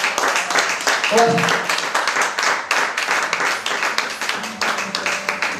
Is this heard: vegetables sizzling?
no